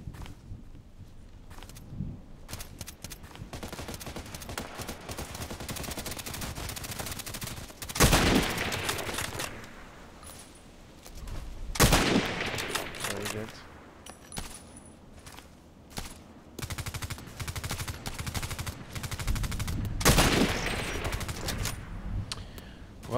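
Sniper rifle gunshots in a video game: a few loud, sharp shots spaced seconds apart over a low, continuous background of game noise, with no speech.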